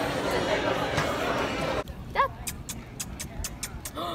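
Two dogs, one very small and one large and wolf-like, bark, yip and whimper in short bursts outdoors in a neighborhood on Martha's Vineyard, first under loud overlapping chatter and then more clearly against quieter background noise.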